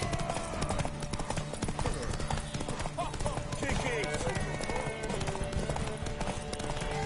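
Hooves clip-clop steadily as a horse gallops in the Witcher 3 video game, a continuous drumming rhythm under a busy mix of voices and game sounds.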